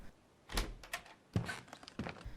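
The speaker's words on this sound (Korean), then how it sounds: "관리자의 말대로 매트 아래에서 열쇠를 찾아 문을 열자" In a horror game about a beaver in the woods, a key turns in a lock and a door is pushed open, heard as a few dull thunks and knocks spaced apart in a quiet room.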